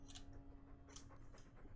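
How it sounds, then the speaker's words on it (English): Rapid, steady dog panting from a canine companion in the fantasy role-playing game Dragon Age II, quiet and continuous with breathy bursts recurring about every half second over a low ambient hum. "All that noisy dog breath,"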